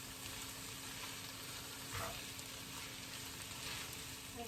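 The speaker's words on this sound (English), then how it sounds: "Hash browns are quite crispy here in the background." Hash browns seasoned with Hungarian paprika fry in a pan, giving a quiet, steady sizzle with a faint clink partway through.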